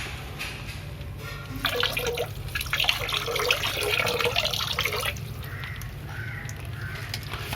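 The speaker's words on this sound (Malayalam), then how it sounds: "അപ്പോൾ നമുക്ക് ഇതിനകത്ത് വെള്ളത്തിലേക്ക് ഇനി ഒഴിച്ചു കൊടുക്കാം." Strained yeast mixture is poured into a container of water for a moina culture, giving a splashing, trickling burst for a few seconds over a steady low hum, with birds cawing in the background.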